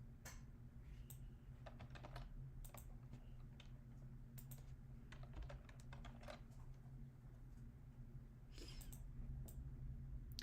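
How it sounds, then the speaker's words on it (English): A house cat meowing in anger indoors, several short, sharp meows scattered through the stretch, fairly close, over a low constant hum with some soft keyboard typing in between. "Pretty sure my cat is just angry that I'm not sitting on the couch."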